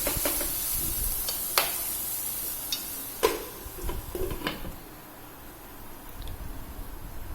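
Peas and rice pulao cooking on a flat tawa, giving a close, steady soft sizzle and hiss with occasional clicks and stirring scrapes.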